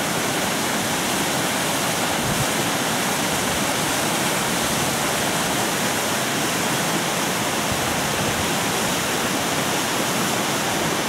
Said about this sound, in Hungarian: Nagyon klassz, mindig egy patakzubogás.